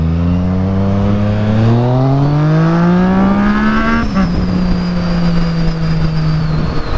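A powerful motorcycle accelerates hard through the gears, its loud, close engine note climbing in pitch, dropping at a gear change around four seconds, then holding a steady high drone with no talking.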